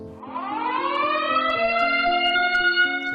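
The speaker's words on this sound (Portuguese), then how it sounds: "Uma sirene ao longe começou a soar, e cada vez mais alto" A siren wails steadily, its pitch rising and holding high, with no voices; it starts moderate and grows fuller across the few seconds.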